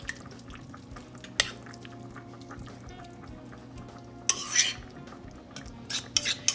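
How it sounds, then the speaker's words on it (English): Leftover turkey pie filling is dumped from a pot into a pie pan, giving scattered spoon clinks and metal knocks with a couple of louder scraping thuds over a low room hum. "So I've got my pie pan out. Make sure you can see. I'm going to dump all this in."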